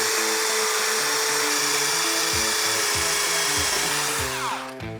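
A drill bit bores out suspension rivets, a continuous close, loud high-pitched whine with the motor pitch stepping up and down, then winding down at the end; no talk.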